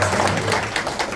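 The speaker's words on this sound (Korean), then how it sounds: "제가 감히 박수 받으면서 시작했지만" A room claps at the start of a meeting, a dense, steady patter of many hands lasting about a second.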